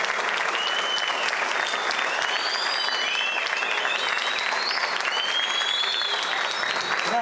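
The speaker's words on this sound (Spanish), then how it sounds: "Le damos un fuerte aplauso" Applause from students at a secondary school talk, a thick, continuous wash of many hands clapping held steady throughout, with faint excited voices and whistles rising over it.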